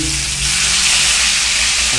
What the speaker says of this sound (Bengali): মাছ কড়াইয়ে অলরেডি দিয়ে দিয়েছি,